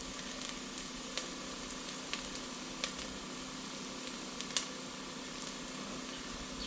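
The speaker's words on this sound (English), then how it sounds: "We've been cooking them about 2 minutes inside of a tablespoon of oil." Softened vegetables sizzle steadily in a tablespoon of oil in a pan for chicken tortilla soup, a constant close frying hiss broken by a few light clicks of stirring.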